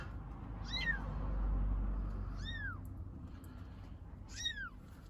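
Mother cat and her small kitten meowing, with three separate thin rising-and-falling meows spaced a couple of seconds apart over a low outdoor rumble, fairly close and clear.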